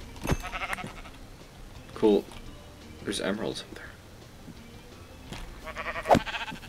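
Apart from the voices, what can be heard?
sheep bleating in a video game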